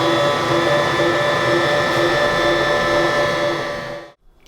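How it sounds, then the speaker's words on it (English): A stand mixer hums steadily as it blends and kneads pizza dough for a par-baked crust, a loud, even motor drone with faint rhythmic pulsing that cuts off abruptly near the end. "I'm going to let this blend, and then I'm going to knead it for 5 minutes"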